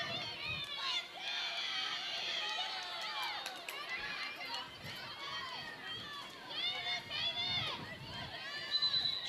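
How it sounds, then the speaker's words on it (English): Spectators cheer and chatter in a lively, steady crowd murmur at a high school field hockey semifinal, New Canaan against Darien at Casa Grande Fields, with voices rising in bursts throughout. "So you can hear a good crowd on hand here from Casa Grande Fields"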